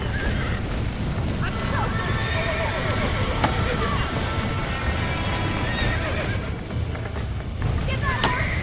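A horse in the Red Dead Redemption video game whinnies several times over steady clip-clopping hooves, loud and close, with a dull background rumble throughout.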